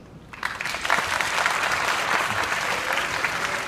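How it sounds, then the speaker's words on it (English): Audience applause at a live question-and-answer session with a tech startup, steady broadband clapping from a large crowd that builds quickly and holds loud for several seconds with no talking. "Of the people that just applauded"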